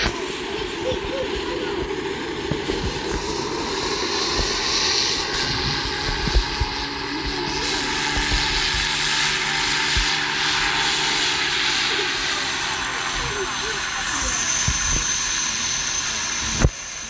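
A jet aircraft engine in a video game drones steadily and loudly for the whole stretch, a broad continuous roar with a few faint clicks and knocks on top.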